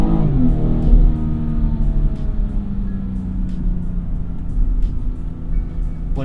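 A 2018 BMW M240i xDrive engine revs hard under acceleration on tight back roads, a loud continuous rumbling drone that rises in pitch from inside the car.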